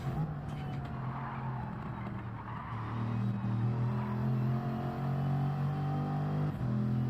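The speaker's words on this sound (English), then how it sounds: "So through the final sector now, flat out again. Revving the car a bit too much, probably." A race car at full throttle through the last sector of a Celtic Touring Car Championship circuit, its engine holding a loud, steady high-revving drone that swells louder midway, with a brief dip near the end as it shifts.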